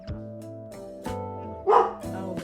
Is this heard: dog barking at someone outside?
yes